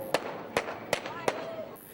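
Four sharp firecracker bangs pop at roughly even intervals during a New Year's night celebration with music, sounding moderately close over a busy background of voices and crowd noise.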